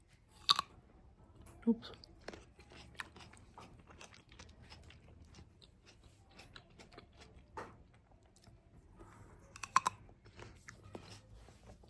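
Grapes are eaten close to the microphone, with soft wet chewing and a few sharper crunchy bites over a quiet background, and a brief spoken word.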